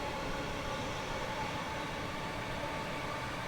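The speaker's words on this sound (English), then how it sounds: "Can't beat sort of old 70s, 80s motor sounds" A Class 313 electric train in Train Simulator gives a steady, fairly loud broadband motor hum and rolling rumble, continuous and even, with no talk over it.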